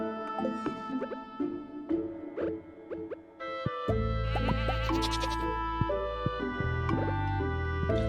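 Goats bleat repeatedly in a farming video game, short nasal calls scattered over steady game music with chimes and a brief drip, no talking.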